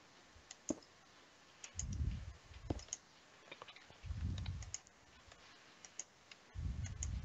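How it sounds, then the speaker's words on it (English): A loud computer mouse clicks in quick irregular bursts of sharp, close ticks, with several soft low thumps of handling noise between them and no talking. "My mouse is really loud."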